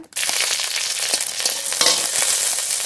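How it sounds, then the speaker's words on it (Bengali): Four dry red chillies frying in a little mustard oil in a kadai, a loud, dense, crackling sizzle starting abruptly and continuing steadily with stirring, close and without talk. "কড়াইতে সর্ষের তেল, অল্প তেল দেবো। 4টে শুকনো লঙ্কা,"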